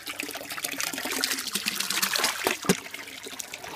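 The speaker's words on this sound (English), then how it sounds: "Spray that water up there." Spring water pumped uphill pours and splashes out of a pipe outdoors, a continuous close gush and trickle with a couple of sharper splashes and no talking.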